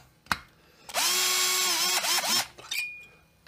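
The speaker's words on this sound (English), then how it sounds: "I'm gonna drill them down in some, so I don't have to do that all the way by hand." A power drill whirs in one long burst with a couple of brief pitch dips as it bogs under load driving down parts on a chainsaw cylinder assembly, preceded and followed by small clicks.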